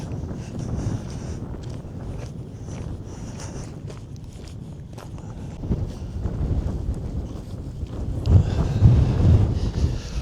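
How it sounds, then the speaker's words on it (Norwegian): Wind at North Cape near Honningsvåg, Norway, buffets the microphone in uneven low rumbling gusts, growing stronger toward the end, with faint shuffling noises underneath. "Det blåser litt."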